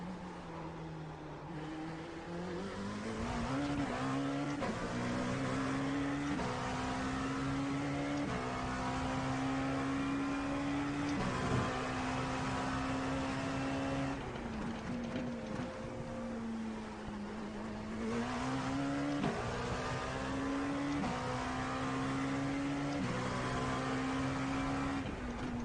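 A race car in an IMSA Sebring racing video game laps continuously, its engine drone rising and dropping through repeated upshifts and downshifts at a steady, moderately loud level, with no talking.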